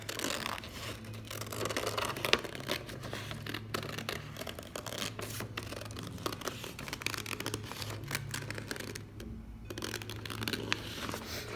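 Scissors snip steadily through paper, cutting out hair shapes for a portrait craft project, a close, soft run of crisp cuts and rustling with no talking.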